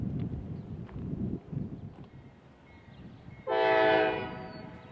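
A CSX local freight train switches cars at an industrial terminal spur, rumbling and clanking low for a few seconds before a loud, sustained horn blast rings out near the end.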